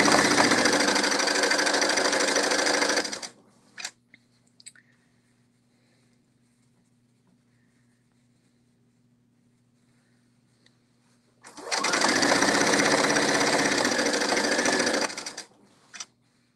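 A sewing machine runs a kimono hem in two steady, loud bursts of stitching, about three seconds each, separated by a long quiet pause with faint handling clicks.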